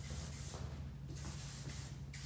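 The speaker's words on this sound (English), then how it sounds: "Now, I'm just gonna take a little bit of spray. This is the Featherlight Hairspray by Blue." Featherlight Hairspray by Blue is sprayed onto hair in a salon cut, giving a soft continuous hiss with brief pauses between bursts, faint and close, with a low hum underneath.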